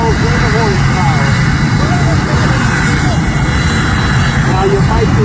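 A jet truck powered by a General Electric J79 turbojet roars at an air show, a loud, steady broadband blast with faint whistling tones above it.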